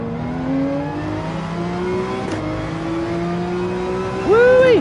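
Race car engine in Gran Turismo 7 roars steadily throughout, with rising harmonic whine and a sharp rev surge near the end as the car accelerates; loud and continuous with no talk.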